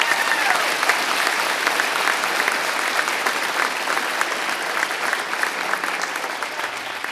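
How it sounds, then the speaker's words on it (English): Steady, dense applause from a large crowd at a fire academy recruit graduation ceremony, continuous and even throughout with no break, fairly loud and close. "Round of applause"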